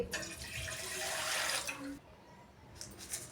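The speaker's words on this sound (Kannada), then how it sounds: "ನಾನಿಲ್ಲಿ ಎರಡು ಗ್ಲಾಸ ನೀರು ಹಾಕಾಕತ್ತೀನಿ ರೀ" Two glasses of water run steadily into a pot for about two seconds, a broad rushing pour, then stops, leaving quiet room noise.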